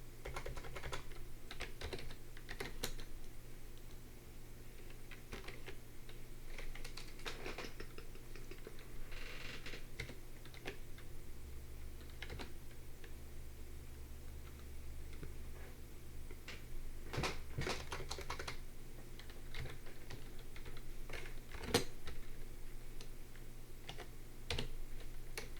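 Someone types on a computer keyboard up close in irregular bursts of light clicking keystrokes, with occasional louder taps and short pauses, for about twenty-five seconds. A faint low hum sits underneath, and no one speaks.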